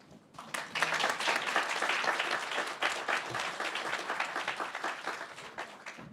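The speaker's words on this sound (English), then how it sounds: "can we get another round of applause for the tremendous group of speakers?" An audience breaks into applause after a group of speakers, dense clapping that swells quickly to a sustained, fairly loud patter, then thins slightly toward the end.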